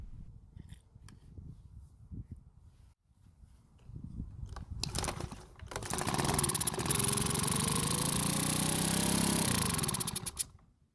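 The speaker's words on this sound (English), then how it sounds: "we then tested to see if the engine would even start and run" A Makita leaf blower engine, previously not starting, cranks with a few rough bursts, then catches and runs loud and steady at high revs for several seconds before cutting off near the end.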